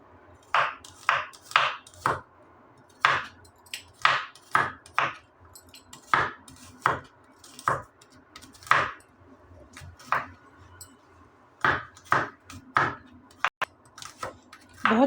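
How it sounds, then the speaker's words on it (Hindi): Garlic being chopped into small pieces with a knife on a board, crisp close-up strikes in quick bursts separated by short pauses, steady and fairly loud. "लहसुन को छोटा छोटा काट के डाले दे रही हूँ इसमें"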